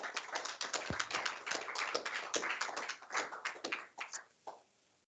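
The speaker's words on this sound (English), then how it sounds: "give another round of applause to InnoWaste" An audience at a demo session gives a round of applause for the InnoWaste demo, with steady, crowded clapping that thins out and fades to a few final claps.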